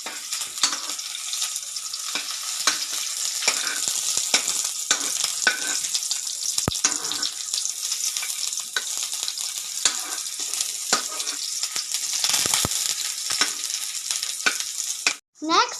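A child chef mixing food in a hot pan, with a continuous bright sizzle and frequent scraping stir strokes close up, ending in a brief drop-out near the end.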